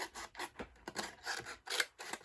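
Scissors snip through Merry Merlot cardstock, trimming a piece a little larger than a die. Close, dry cutting strokes arrive in an uneven run of short rasping bursts with no voices.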